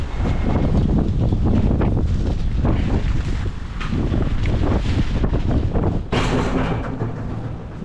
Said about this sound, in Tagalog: Lakas ng hangin sa labas.